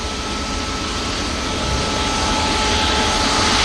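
An Emirates Airbus A350 jet at Manchester Airport roars steadily, a loud broadband engine rush that swells slightly toward the end, with no one talking.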